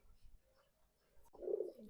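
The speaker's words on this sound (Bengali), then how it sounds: "এখানে নর কবুতর বেশি আছে এর কারণে নর গুলোর ডাকটা দেখেন" A low, throaty coo from male native pigeons swells up near the end after a quiet stretch, close by, with faint background rustle.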